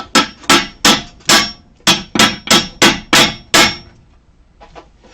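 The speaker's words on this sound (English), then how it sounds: "Alright, set up the hammer now." A hammer pounds the back of a stuck transmission shaft under a car, around ten sharp metallic blows in an uneven rhythm, loud and close, then a quieter tap or two.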